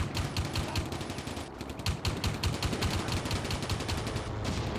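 Rapid bursts of machine gun fire from a Combat Mission game unit, with dense, rhythmic cracks that run almost without pause for the whole stretch and fill the foreground, broken only by a brief dip partway through.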